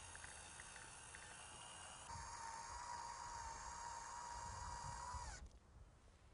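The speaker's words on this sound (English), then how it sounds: "The method we'll be demonstrating for the installation of the Strieter Wildlife reflectors is using sheet metal screws." A power driver spins sheet metal screws into posts to mount wildlife deer-warning reflectors, a steady whirring motor whine that rises in pitch midway, holds for a few seconds, then cuts off, faint and alone.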